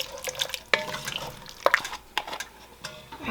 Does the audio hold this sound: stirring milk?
yes